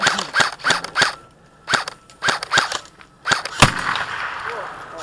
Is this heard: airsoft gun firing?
yes